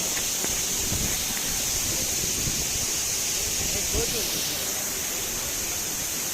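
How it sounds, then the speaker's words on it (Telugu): Ethipothala waterfall near Nagarjunasagar in Andhra Pradesh roars as a steady, unbroken rush of falling water heard close up. "వాటర్ ఫాల్స్ సౌండ్ చూసారా ఎంత బాగుందో"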